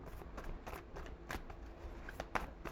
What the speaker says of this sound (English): Let's shuffle for Cancer.